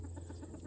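A young rooster gives a short, quiet cluck over a steady low background hum, with no voices.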